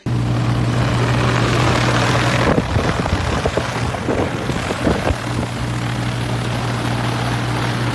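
An Agras T100 agricultural spraying drone flies nearby with a loud, steady rotor buzz and hum, with a brief gusty, noisier stretch in the middle.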